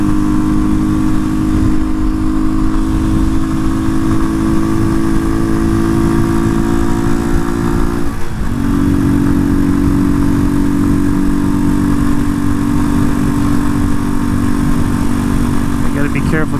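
A Janus Phoenix 250 motorcycle cruises through the Columbia River Gorge with a steady, close engine drone under heavy wind rush. The engine note holds constant with a brief dip partway through.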